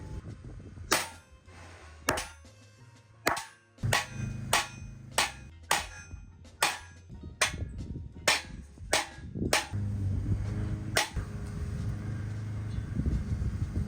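A hammer whacks repeatedly on a metal pallet jack part during a repair, about fifteen sharp, loud ringing blows at uneven intervals, followed by a clattering, rumbling stretch near the end.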